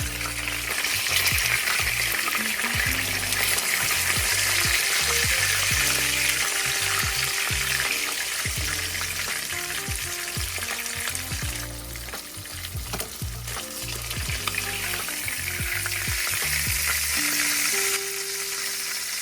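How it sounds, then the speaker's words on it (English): Fish fries in hot tallow with a dense, constant sizzle and crackle, close to the pan, while a spoon scoops and pours the fat over it, adding occasional clinks and bursts of spitting. "This allows me to scoop up the hot tallow with a spoon and gently pour it over the top of the fish."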